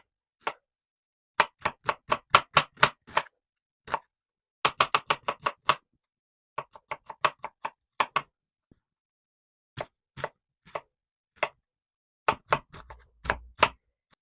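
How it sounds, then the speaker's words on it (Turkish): A knife chops onions steadily on a cutting board, quick bursts of crisp taps separated by short pauses, close and clear with no talking. "Soğanlarımızı doğrayalım."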